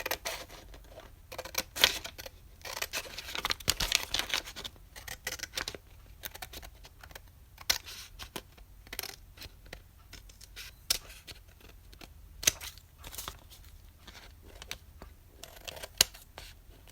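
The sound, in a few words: trimming craft material, likely with scissors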